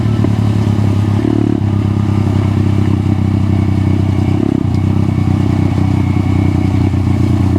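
A Crossfire CF 140 pit bike engine drones steadily and loudly while being ridden, with a constant low buzzing note and slight shifts in pitch as the throttle changes. No other sounds break through.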